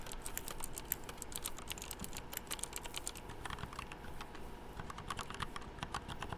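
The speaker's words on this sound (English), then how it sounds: "I don't like the way those keys sound." Computer keyboard typing in a steady stream of rapid clicky keystrokes, close and fairly quiet, with no talking.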